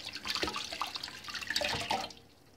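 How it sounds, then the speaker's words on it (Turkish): Hands washed under a running kitchen tap, splashing and gurgling water close by for a couple of seconds before fading out, with no talk. "Elim yıkayım."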